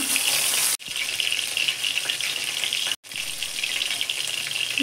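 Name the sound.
bhola fish frying in a pan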